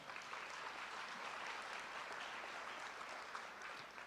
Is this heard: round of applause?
yes